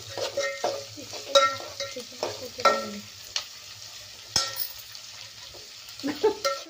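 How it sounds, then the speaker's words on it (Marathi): Chopped onions are sautéed in a pan for an egg and chicken biryani, stirred in repeated scraping strokes over a soft sizzle, fairly quiet and close. "कांद्याला मस्त असं आपण छान परतून घेणार आहे।"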